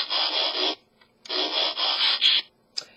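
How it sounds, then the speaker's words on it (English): Mechanical whirring and ratcheting transformation effect from the original G1 Transformers, heard as two long bursts of nearly a second each, separated by a pause, then a brief click at the end, loud with no talking. "the original G1 transforming noises"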